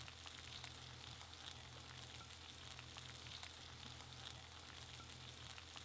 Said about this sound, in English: Now fry the rice for a little bit.